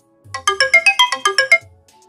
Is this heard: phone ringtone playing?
yes